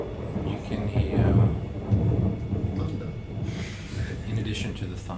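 Thunder rumbles low and sustained as an ambient sound effect during a Curse of Strahd tabletop role-playing session, mixed under a speaking voice that continues across most of the clip.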